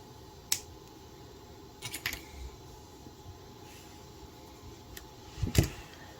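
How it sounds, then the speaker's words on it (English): Jewelry wire is snipped off with cutters in a quiet room: a sharp click, a small cluster of clicks, then a louder snip near the end. "So now I'm going to cut off my extra wire"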